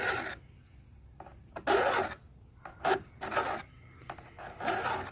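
Hand file rasping across a hedge trimmer tooth, close and fairly quiet, in a series of separate rough strokes with short pauses between them.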